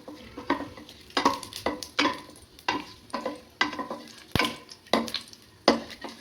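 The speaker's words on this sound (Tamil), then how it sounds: "இதை நல்லா கிளறிக்கோங்க" Cinnamon bark and cashews stirred in hot oil in a pan for spicy chicken biryani, a series of regular scraping stirs over a soft sizzle, close and fairly loud, with no talking.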